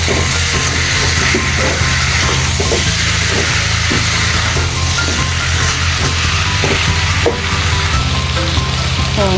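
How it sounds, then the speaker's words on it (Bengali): Chicken fries hard in a pan with salt and spices, a loud, dense, continuous sizzle close by, broken by the occasional scrape and clack of a stirring spoon. "এটাকে আমি আবার একটু ভেজে নেব, কষিয়ে নেব।"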